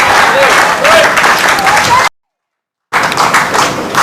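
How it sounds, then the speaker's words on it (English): Australian fans in the stands applaud during a lawn bowls men's singles final, warm clapping that is interrupted by a brief total dropout before resuming, with a commentator's voice over it. "Good round of applause from the Aussies in the stands here around us."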